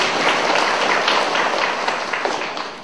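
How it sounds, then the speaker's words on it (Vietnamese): Audience at a Buddhist dharma talk giving a round of applause, a dense burst of clapping lasting a few seconds and tapering slightly. "Xin một tràng pháo tay tặng cho quý vị."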